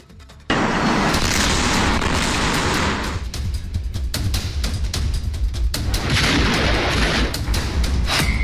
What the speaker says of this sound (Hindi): मौत का धमाका, कांप उठा इलाका।